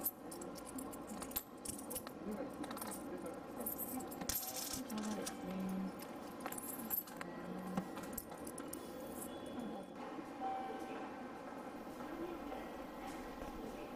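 Coins for a cash-only 570 yen train fare clink and rattle faintly among steady station or train background noise, with soft voices in the background.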